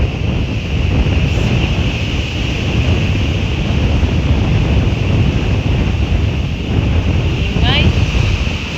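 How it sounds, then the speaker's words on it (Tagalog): Loud surf and strong wind roar at a beach at Lakes Entrance, the crashing waves and microphone buffeting forming a dense, continuous wash, with a brief chirp near the end. "Ayan yung dagat."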